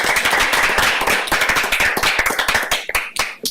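Applause at a township board meeting, a moderate group clapping in a brisk, uneven patter that thins out and fades toward the end, with no talking.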